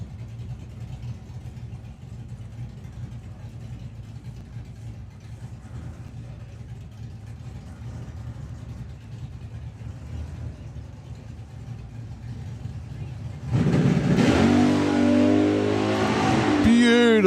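A Chevy Malibu drag car idles with a low rumble at a drag strip, then launches wheels-up with a sudden loud roar of hard acceleration that rises steeply in pitch.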